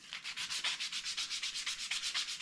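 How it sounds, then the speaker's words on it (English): Wood being sanded by hand while shaping a round peg for a bow tillering tree: quick, even back-and-forth rasping strokes, about eight per second, close and alone. "I'm just going to sand it down a little bit, make it a little bit more round."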